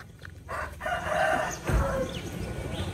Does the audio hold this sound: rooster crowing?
yes